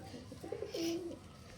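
A pet Punjabi pigeon gives a short, close coo, a soft rolling note rising then held, alone in a quiet setting with no talk.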